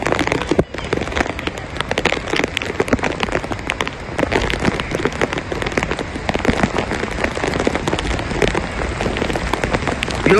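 Heavy rain pours down steadily and loudly on a mountain trek to Harishchandragad, a dense, continuous patter of drops hitting surfaces close by, with no clear talk.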